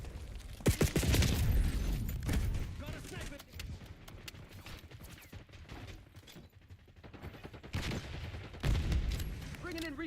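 Marksman rifle gunfire in the Black Ops 6 video game on the Nuketown map, loud bursts of shots near the start and again near the end with quieter gameplay noise between.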